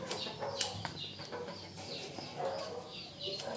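Backyard chickens peck at chopped moringa leaves and small tomatoes, letting out faint, scattered clucks with a brief rustle of wings, all quiet and somewhat distant.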